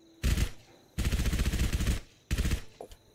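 Submachine gun fire from the SMG in Fallout 4, three sharp automatic bursts, the middle one longest at about a second, separated by short pauses and heard alone.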